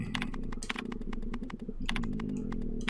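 Typewriter keys struck in a horror video game, a fast irregular run of sharp clacks continuing for several seconds, alone without talk.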